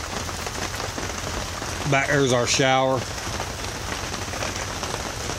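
Steady rain patters on a camp tarp and tent at a campsite, a constant hiss throughout while someone speaks briefly in the middle.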